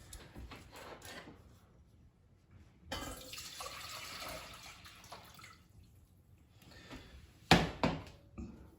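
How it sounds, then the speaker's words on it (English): Water is poured into a cooking pan for rice, a steady splashing gush of a few seconds between quiet handling noises, with clanks at the end. "So we go ahead and put our water into the pan."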